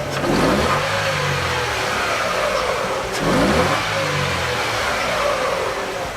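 A car engine revs up during acceleration on a test bench, rising in pitch twice with a steady mid-range roar between the climbs, close and loud.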